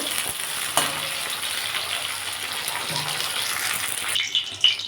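Okra fries in hot oil with a steady sizzle and crackle close by, then quiets near the end with a few faint clinks.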